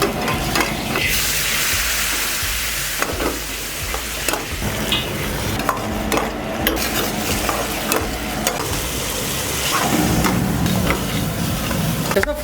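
Minced mutton keema is stir-fried in ghee at a Punjabi eatery, with a loud, close, continuous sizzle and repeated metallic scraping and clanking of a spatula against the pan.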